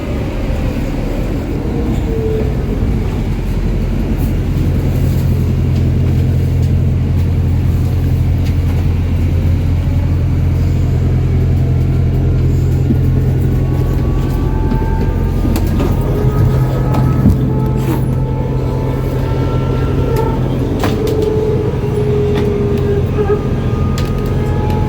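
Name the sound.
rail replacement bus stopping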